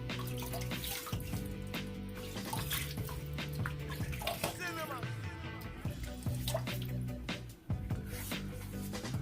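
Tap water runs steadily throughout while a face is wetted for a wet shave, with splashing and small squishy hand sounds over the flow.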